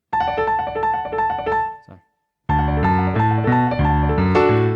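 Piano plays a fast repeated arpeggio on D from the intro of a song, a steady run of notes that breaks off briefly mid-phrase and then resumes fuller and louder, close and alone.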